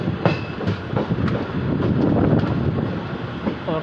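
Passenger train pulling into Gomti Nagar railway station, a steady rumbling roll of wheels and carriages with rhythmic clicks and clanks, fairly loud and continuous.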